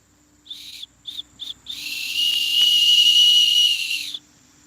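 Outdoors in a field, a dog-calling whistle sounds three short toots, then a long, loud, sustained blast of about two and a half seconds, close and shrill with no talking.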